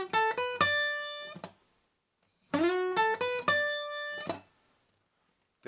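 Acoustic guitar plays a short solo line, with plucked notes in two quick phrases separated by a pause, the final note of each phrase bent upward and left to ring before it fades.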